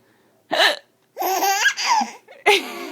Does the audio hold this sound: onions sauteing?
no